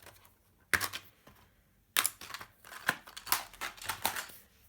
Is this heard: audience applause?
no